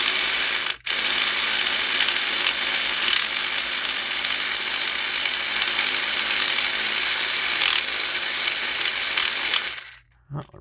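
A homemade electric pick gun buzzes steadily inside a Brinks padlock, a loud continuous rattling drone with one brief dropout near the start, cutting off abruptly at the end.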